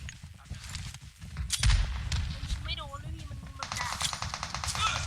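Gunfire in the battle royale game PUBG Mobile comes as bursts of rapid automatic shots mixed with heavier thuds, fairly close, while players talk excitedly over it.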